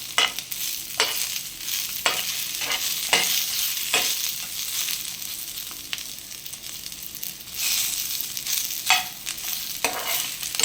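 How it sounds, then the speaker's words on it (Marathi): Onions and cashews sauté in a pan for a fenugreek and green pea curry, with a steady bright sizzle broken by regular scraping strokes of a spatula, close and continuous with no voices. "थोडंसं परतून घ्यायचं, जास्त काळसर लालसर नाही करायचं आपल्याला"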